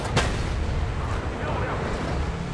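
Tank cannon fire in a tank video game: one sharp, heavy shot near the start, then a dense rumble of engine and battle noise, loud and close, under continuous narration.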